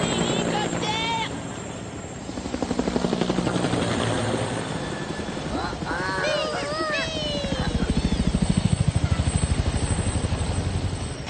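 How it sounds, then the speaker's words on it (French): A cartoon helicopter flies with a loud, steady rotor chop that swells and fades, while animated characters' voices speak and shout over it. "Hélicoptère!"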